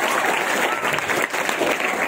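Students in an audience clapping together, a brief dense burst of steady applause at close range that holds its level with a slight dip midway.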